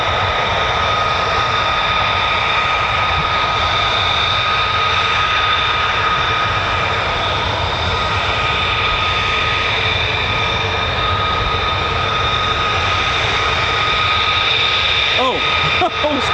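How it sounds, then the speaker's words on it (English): F-35 fighter jets arriving at RAF Lakenheath, a loud continuous jet engine roar and whine that holds steady throughout, heard close and outdoors. "More F-35s turning up."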